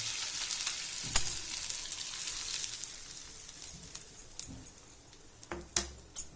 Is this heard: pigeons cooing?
no